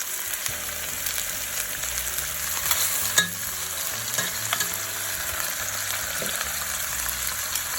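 Oxtail sears in a pot with a constant close sizzle and crackle, broken by occasional soft clinks of stirring, and no voices.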